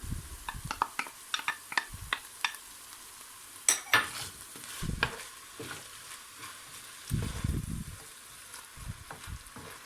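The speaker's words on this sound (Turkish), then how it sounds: "Soğanlarım ve biberlerim sotelenene kadar pişireceğim." Onions and peppers sizzle in a pan while a utensil repeatedly scrapes and stirs them, giving irregular clattering strokes over a constant frying crackle.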